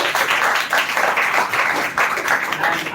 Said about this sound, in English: So please clap for yourself first of all.